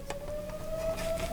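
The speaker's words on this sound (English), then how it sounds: "the fire siren's going off in this little township of ours" A fire siren sounds in the background of a small township, a faint steady tone that slowly rises in pitch, with soft tapping sounds nearby.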